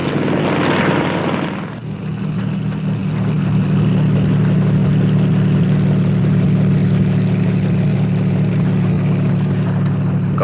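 A 1950s helicopter near the Las Vegas Boulder Dam area drones loudly and continuously, rotor chop pulsing steadily after a brief swell at the start, with no talk.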